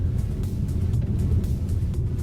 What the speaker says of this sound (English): it's shuddering a fair bit with this sort of dirt road